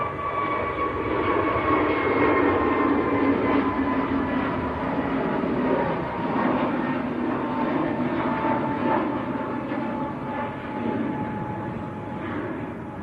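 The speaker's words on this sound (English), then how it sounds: "Egypt Air to Cairo, A321neo." An Egypt Air Airbus A321neo bound for Cairo passes at Manchester Airport, its engine roar swelling and easing with shifting whining tones, moderately near and continuous, without speech.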